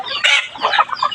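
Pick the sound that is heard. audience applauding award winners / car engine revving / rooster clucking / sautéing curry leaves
rooster clucking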